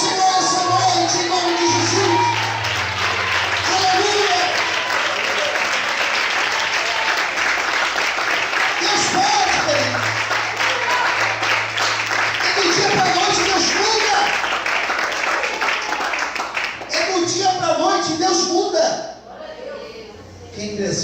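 A church congregation applauds loudly and continuously for nearly twenty seconds, with voices and shouts mixed into the clapping, before it dies down.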